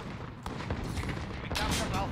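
A shotgun fires in the Call of Duty: Modern Warfare game, with a couple of quick muffled blasts and a sustained burst of gunfire that come through faintly amid game noise.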